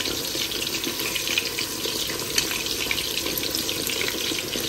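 Fish cakes fry in oil over low to medium heat, making a loud, steady, close sizzle that continues unbroken throughout.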